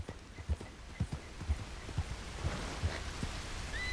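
Horse hooves in the open-world western game Red Dead Redemption 2, a steady clip-clop at an even trot, about two footfalls per second, moderately close, over a soft rain-like hiss and no talk.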